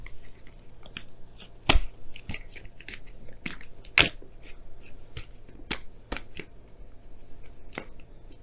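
Oracle cards being shuffled by hand at close range, a run of sharp crisp snaps and flicks spaced irregularly over a faint steady background, with no talking.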